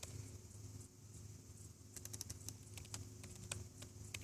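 A passphrase is typed on a computer keyboard while setting up Cisco Mobility Express. Quiet clicks come in a quick burst, then scattered single keystrokes, over a steady low hum of room noise.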